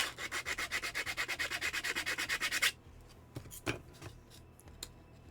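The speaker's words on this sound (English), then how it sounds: "That's going to take some hand sanding, I think. Just a small little piece of sandpaper to get in there." Hand sanding with a small piece of sandpaper on a cosplay repair piece: a fast, steady run of about twenty close, loud rasping strokes, then it stops, leaving a few faint scrapes and knocks.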